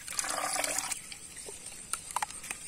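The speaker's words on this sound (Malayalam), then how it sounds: "അതും വെള്ളത്തിലോട്ട് ഒഴിക്കാണ്" Pineapple essence is poured into water while making carp fishing bait, a short splashing trickle followed by a few scattered drips.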